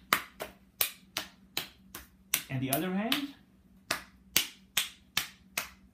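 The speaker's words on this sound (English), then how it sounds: "the next test is just to do the hand clapping" Sharp hand claps ring out in a regular, evenly spaced series, fairly close, during a neurological test; a brief spoken phrase interrupts the rhythm partway through before the clapping resumes.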